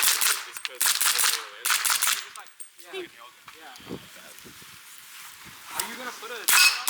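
An AR-15 piston rifle with an ACF charging handle fires in short bursts of rapid shots, loud and sharp, broken by pauses in which people talk.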